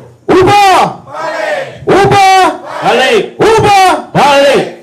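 Crowd at a political rally in Kimanis chants a rally cry in loud unison bursts, a leader's call alternating with the crowd's roaring replies in a steady back-and-forth rhythm.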